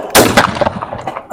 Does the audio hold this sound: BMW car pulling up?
no